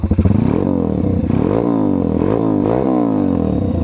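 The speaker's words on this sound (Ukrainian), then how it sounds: "Послухаємо вихлоп." A small Kovi Pit 150 pit bike engine revs up and down repeatedly, its exhaust rising and falling in pitch several times, loud and close.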